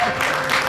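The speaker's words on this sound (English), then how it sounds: "Oh, polite applause right here." A short burst of polite, scattered clapping from an audience at a 2018 Nebraska State Fair show during a bodybuilder contest, a brief, fairly loud patter of hands with no clear voices over it.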